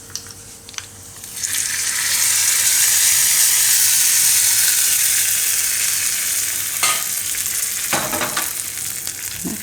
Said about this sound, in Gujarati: હવે વઘાર આપણે નાખશું રાયતા ઉપર.